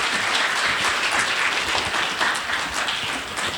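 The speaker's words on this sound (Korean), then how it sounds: "박수로 환영해 주시기 바랍니다" A lecture audience applauds to welcome a speaker, dense steady clapping lasting a few seconds before tapering slightly.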